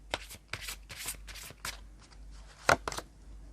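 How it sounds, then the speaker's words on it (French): Tarot cards being shuffled by hand, a rapid series of close, crisp riffling and flicking bursts with a sharper snap near the end, no voices. "je brasse et je prends au hasard"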